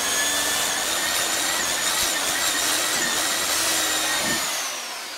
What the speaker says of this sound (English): We'll take our actual 3M polishing pad